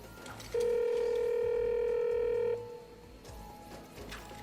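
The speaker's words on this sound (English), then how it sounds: "Computer, dial Chairman Drek. Dialing Chairman Drek." A steady electronic dial tone in the video game Ratchet and Clank holds for about two seconds, then cuts to a fainter tone as the computer dials a phone, over quiet game background sound.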